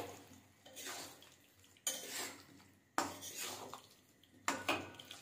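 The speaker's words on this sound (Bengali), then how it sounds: "দইটা ভালোভাবে মিশিয়ে নেব মাংসের সাথে।" Yogurt being stirred into chicken meat in a bowl, with four bursts of wet, clattering spoon-and-dish scraping separated by brief pauses, close and fairly quiet.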